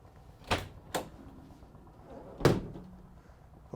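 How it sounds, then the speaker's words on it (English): Rear twin barn doors of a 2016 Vauxhall Vivaro 1.6 CDTi van being opened, giving two quick latch clunks close by, a pause, then a heavier thunk as a door swings wide. "twin barn doors on the back here"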